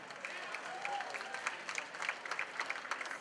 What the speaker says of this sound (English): You could clap to that